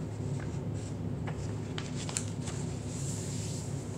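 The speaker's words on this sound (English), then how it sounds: "You need to fold it in half." Sheet of paper folded in half in a classroom, heard as soft rustling and a few faint crisp creases over a steady low background hum, with no speech.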